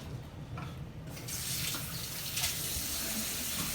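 Hot water gushing steadily from a kitchen tap to top up a sous vide container for steaks, running alone and close after a quieter start, with a slight rise in flow partway through.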